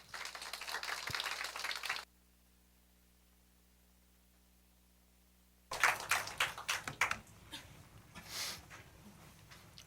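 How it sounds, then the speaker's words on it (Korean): Applause greeting a visiting professor before a church lecture on political worldviews, a burst of clapping from the audience after a silent gap, dense and fairly close, tapering off after a few seconds. "우리 박수로 환영해 주시기 바랍니다"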